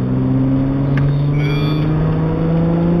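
An MG ZS 180 saloon with a 2.5 V6 engine accelerates from low speed under a steady throttle, with a loud, continuous engine drone that holds its pitch through the clip.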